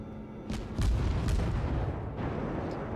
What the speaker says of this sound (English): Get a couple of shots in on him. Shots going over this hill in front of me here.